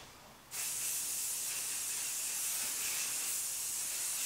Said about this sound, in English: So now we're gonna take our texture spray.